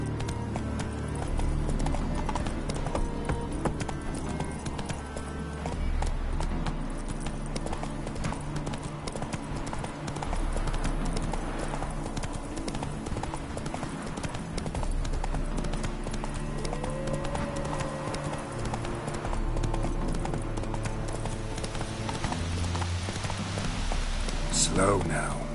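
Hoofbeats of the horse Roach in The Witcher 3 game, a steady rapid clip-clop galloping rhythm running throughout, loud and close, over game music and ambient rain, with a brief neigh.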